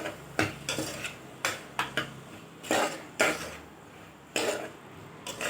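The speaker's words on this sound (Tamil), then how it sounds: "சேர்த்துன்னு நல்லா எண்ணெயில் கலரி விட்டுக்க வேண்டியதுதாங்க" Chopped vegetables stirred in hot oil in a pan while making vegetable kurma gravy: a steady run of scraping, clattering spoon strokes against the pan, close and fairly loud, about a dozen irregular strokes with no talking.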